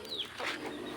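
A single soft pigeon coo, faint and brief, with a quiet chirp just before it.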